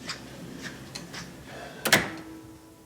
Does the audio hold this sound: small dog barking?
no